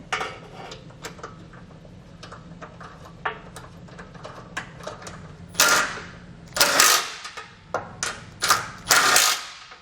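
Ratchet tightening base plate bolts on a 2019 Toyota Corolla during a Roadmaster crossbar-style base plate install, heard as quick irregular clicking bursts that start faint and grow louder and busier toward the end.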